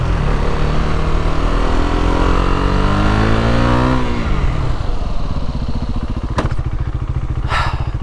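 A KTM Duke 390 single-cylinder motorcycle drones steadily at speed while practising stoppies, its engine pitch falling as it brakes hard, then idling with a couple of sharp clunks near the end. It is loud and close, with wind noise.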